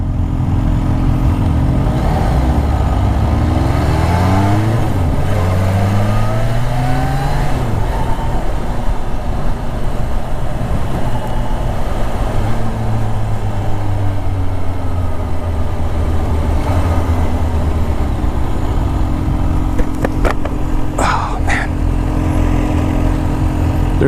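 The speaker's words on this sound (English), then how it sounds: "There's a lot of mechanical noise, but I think you can hear the supercharger." On a ride, a 2018 Kawasaki Ninja H2 SX SE's supercharged engine drones loudly, with rising and falling pitch sweeps as it revs over steady mechanical noise, with a couple of faint clicks near the end.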